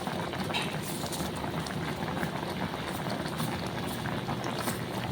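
Coconut milk simmering uncovered in a pot, giving a steady, close bubbling and gentle patter that stays even and unbroken throughout, with no voices over it.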